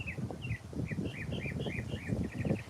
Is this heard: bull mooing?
no